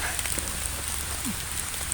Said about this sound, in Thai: ฝนตกห้ามเฮาแล้ว